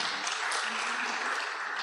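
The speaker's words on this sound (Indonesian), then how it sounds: "Beri tepuk tangan." A church congregation applauds during a sermon, a dense, steady wash of clapping from many hands that is fairly faint and evenly sustained throughout.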